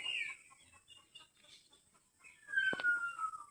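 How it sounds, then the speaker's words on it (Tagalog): Chickens cluck and call in short bursts at feeding time, with a louder sharp call near the end over faint farmyard background. "Papatuka ng mga manok."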